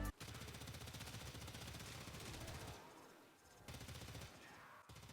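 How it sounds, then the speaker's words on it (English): Stradivar Prime gun firing in the video game Warframe, dense rapid automatic fire in long continuous strings that break off briefly and then resume. "Now it has got a pretty nice sound to it when you're firing it."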